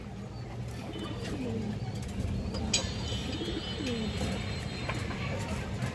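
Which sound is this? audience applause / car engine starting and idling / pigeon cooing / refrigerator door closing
pigeon cooing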